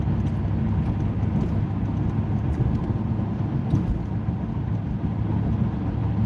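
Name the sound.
car's big horsepower engine accelerating to chase traffic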